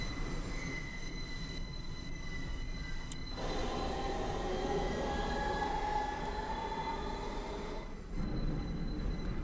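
A five-car New York subway train with replaced propulsion equipment runs through a tunnel, its wheels squealing and its motors whining in sustained tones, with a short shift in the sound partway through and a rumble that returns near the end.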